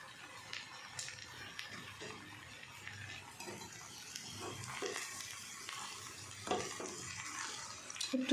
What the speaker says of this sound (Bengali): একটু সামান্য জল দিয়ে নাড়াচ্ছি